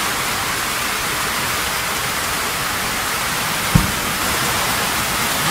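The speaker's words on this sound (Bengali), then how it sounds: "যেই বৃষ্টি নামছে এই দেখেন একদম পুরাই।" Steady rain pours down around a wooden one-and-a-half-storey house, a dense, even hiss holding constant throughout, with a single brief knock partway through.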